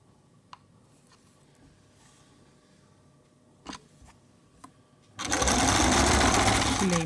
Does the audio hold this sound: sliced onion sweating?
no